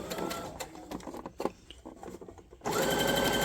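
Sewing machine running steadily while stitching fabric for a scrunchie, a close whirring hum that stops briefly amid faint handling noises, then resumes at full speed.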